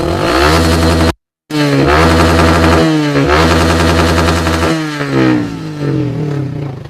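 Motorcycle fitted with a 3Tech Evox X3 carbon exhaust, revved repeatedly to high RPM. Loud, close, rasping engine swells with one brief cut to silence and no voices.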